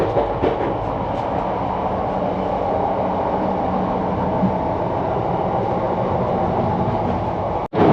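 Loud steady rumble from inside the bathroom of the moving Uttar Banga Express train, with rhythmic rattling and wheel noise throughout, cut off abruptly near the end.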